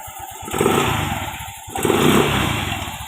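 A Yamaha Mio i 125 scooter engine runs after its CVT slider pieces were replaced, idling with a steady throb then revving up twice in smooth swells, close and fairly loud.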